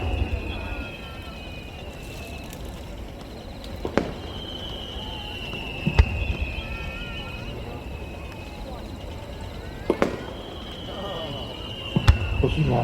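Whistling fireworks at the Nagashima Onsen fireworks show, several rising shrill whistles sliding in pitch, each ending in a sharp bang, repeating over a murmuring outdoor crowd.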